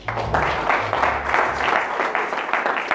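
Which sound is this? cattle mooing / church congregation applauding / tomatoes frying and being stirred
church congregation applauding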